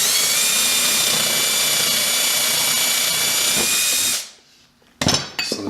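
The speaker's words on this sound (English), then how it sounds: "I'm going to take a tapered drill bit and I'm just going to make this hole a little bigger" A power drill with a tapered bit enlarges a hole in a wine rack piece, whining loudly and steadily for about four seconds before spinning down, then a couple of brief clunks and bursts of handling noise.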